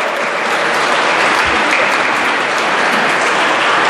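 Steady, dense applause from a large congregation fills the whole stretch, loud and unbroken, echoing through a church at a first communion service.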